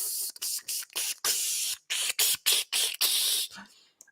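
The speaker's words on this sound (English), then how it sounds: "he's spraying something out of a bottle, air compressed bottle with some black stuff in it" A compressed-air spray bottle holding black liquid is squeezed in about ten short, sharp hissing bursts with brief gaps between them. The bursts are close and loud, right after a hot towel comes off a face.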